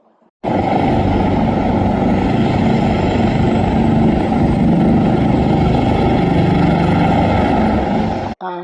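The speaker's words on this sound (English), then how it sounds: "This helicopter." A helicopter flies overhead, a steady, loud rotor-and-engine drone that holds constant for several seconds without fading, then cuts off abruptly.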